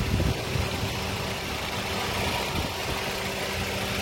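A 2017 Toyota Rush TRD with manual transmission idles steadily, a constant even engine hum heard close up with no talking.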